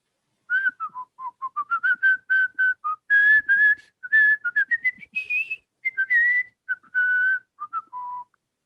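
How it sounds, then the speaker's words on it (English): A person whistles a lively, wandering tune of short bright notes and brief held tones, loud and close, with small gaps between phrases and no talk. "I whistle with my hands, and that's a whole different thing"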